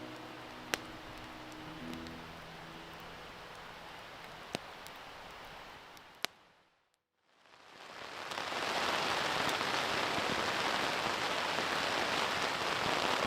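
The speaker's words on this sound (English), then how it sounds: "Pretty rainy outside." Steady rain patters on a camping tent, a dense even hiss with a few sharp drop ticks, briefly cut to near silence midway before resuming louder and fuller.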